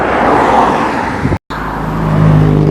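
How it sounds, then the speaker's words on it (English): A car passing by on a country road near Marsh Farm in Danbury, Essex, a close whooshing sweep with a brief cut midway, followed by a low engine rumble. "That's a nice car."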